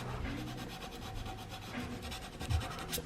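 Continuous hand sanding with 220 grit sandpaper during engine bay touch-up work, a steady rasping rub of moderate loudness with slight rhythmic strokes throughout.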